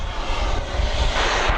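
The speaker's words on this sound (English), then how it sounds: "Volaris coming in from Mexico City, flight 4800 and Airbus A321" A Volaris Airbus A321neo arriving at DFW from Mexico City gives a brief, loud, close engine roar with deep rumble, heard alone.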